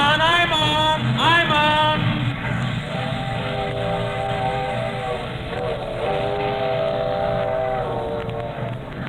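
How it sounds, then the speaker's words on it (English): Passenger train pulling out of a station platform, with a whistle sounding near the start, then steady rolling rumble and harmonic tones under crowd noise. "The train's moving."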